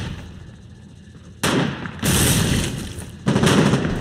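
Mortar shells landing in the war video game Foxhole; three sudden loud booming blasts arrive about a second apart, each followed by a rumbling roar, over quiet background.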